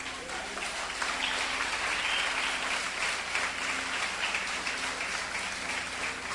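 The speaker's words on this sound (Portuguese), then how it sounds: "Você pode aplaudir o Senhor?" A church congregation applauds in a steady, dense wash of clapping that continues for several seconds at moderate distance.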